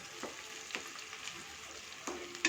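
Chopped onions, 250 grams, frying in oil for chicken dum biryani, a steady close sizzle with faint stirring scrapes and a couple of louder clinks, no talking.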